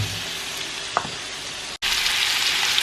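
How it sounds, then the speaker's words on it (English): Sausage sizzling in a pan for red beans and rice, a dense, even hiss of frying fat close up, briefly cut off by a split-second gap before the crackle resumes just as strongly; no one speaks. "Now that my sausage is cooking pretty good"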